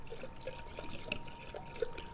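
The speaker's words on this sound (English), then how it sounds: "I'm just going to pour the whole half gallon right into this pot," Half gallon of non-fat milk poured into a pot, a quiet continuous liquid stream with soft splashy gurgles, close and alone.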